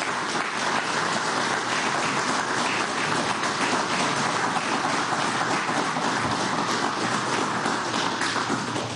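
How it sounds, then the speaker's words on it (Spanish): An audience applauds PDVSA oil workers at a Venezuelan government event, a dense, steady roar of clapping that holds at full strength throughout. "Pido un aplauso para los trabajadores y trabajadoras de PDVSA."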